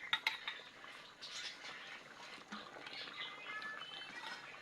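Pieces of fried fish go into a pot of simmering vegetable curry with potato and drumstick: quiet clinks and taps of a utensil against the pot, then soft bubbling and stirring, close by and without talk.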